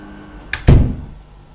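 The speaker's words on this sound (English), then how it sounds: "Cautiously, I stepped through the threshold and firmly closed the door behind me." A door in the horror visual novel game Mycorrhiza shuts firmly: a light click, then a heavy, close thud that decays quickly into quiet.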